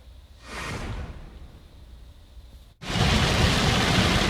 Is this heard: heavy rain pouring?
yes